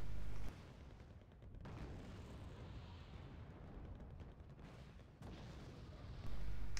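Distant AS-90 self-propelled artillery barrages in the video game Wargame: Red Dragon, heard as low, rumbling booms rolling over a sustained battlefield roar, with louder blasts at the start and end.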